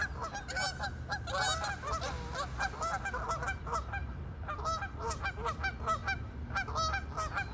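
A flock of geese honks on water in loud, overlapping calls that come close and keep up steadily, with no talking.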